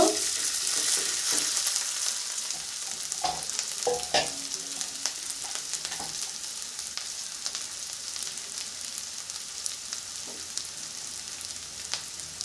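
Rice hisses and sizzles in hot oil with cloves, cardamom and cinnamon, a steady close frying crackle with occasional stirring clicks throughout.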